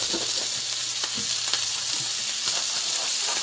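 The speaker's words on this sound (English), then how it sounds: "So we've got this really nice sizzle here." Steak searing in hot oil in a pan gives a steady, close, loud sizzle and crackle with faint stirring clicks, no voices.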